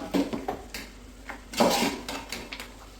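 Chicken pickle ingredients being stirred together in a pot: a series of irregular clinks, scrapes and knocks of a spoon against the metal, some louder than others, in an otherwise quiet kitchen.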